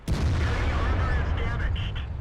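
The 122mm cannon of an ST-I tank in World of Tanks fires one loud, close boom that rolls into a long heavy rumble, with faint higher game tones trailing as it fades.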